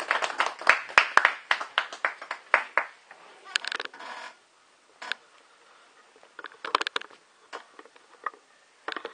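A small audience claps at a commemoration marking twenty years of the Balladur visa. Close, distinct hand claps come in a quick run at first, then thin to sparse, scattered claps after a brief lull.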